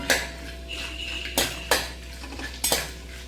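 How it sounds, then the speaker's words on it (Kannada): Cashews fry in ghee in a pan for sweet pongal: a soft sizzle runs underneath while a metal spoon strikes the pan in several sharp, close clinks. "ಗೋಡಂಬಿನ ಫ್ರೈ ಮಾಡ್ಕೊತೀನಿ"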